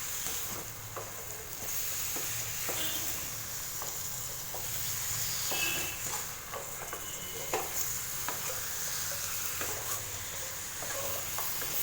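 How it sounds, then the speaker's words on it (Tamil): Chicken pieces coated in masala for a Chettinad chicken fry are stirred and sautéed in a pan, with a steady low sizzle broken by repeated soft scrapes and taps of the spoon, close and without talk. "மிக்ஸ் பண்ணி விட்டு நல்லா வதக்கி விட்டுக்கலாம்."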